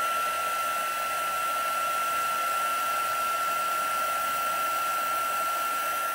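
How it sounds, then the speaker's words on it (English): Heat embossing gun blowing hot air to melt embossing powder for a card craft project, a steady loud whirring hiss with a constant high whine, running alone without talk. "if you just want to run the embossing gun on the back a little, it helps if it starts to warp from the heat."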